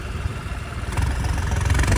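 Tractor engine strains hard while pulling a stuck Suzuki Jimny out of the mud, a loud rough rumble that swells and grows heavier partway through, heard close with no talk.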